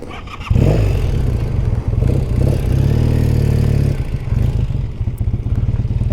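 A 1978 Honda CB400T motorcycle pulls away and rides off: the engine barks up sharply, then a close, loud, throbbing twin-cylinder rumble rises and falls through the revs before easing, with no talk.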